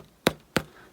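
Three soft, sharp taps on a sturdy, pebbled-grain leather handbag, evenly spaced and close by, with quiet pauses between them.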